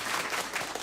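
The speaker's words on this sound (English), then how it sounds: "Thank you for the claps." An audience claps steadily in a brief, dense burst of applause.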